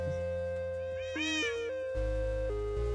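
A Minecraft cat lets out a short rising-and-falling meow over steady tonal game music and sound effects.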